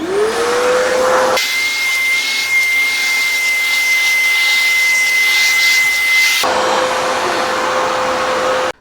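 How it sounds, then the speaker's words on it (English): An Agaro Ace 1600-watt wet and dry vacuum cleaner runs with a loud, steady motor whine, its pitch jumping higher and harsher for several seconds as it sucks water off a floor, then dropping back, with no voices. "let's see how this performs in picking up the water from the floor"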